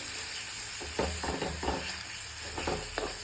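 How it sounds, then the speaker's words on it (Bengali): Dates fry lightly in melted ghee for dry-fruit laddoos, a continuous sizzle broken by several soft stirring scrapes spread across the clip. "খেজুরটাকে একটু হালকা ফ্রাই করে নিতে হবে"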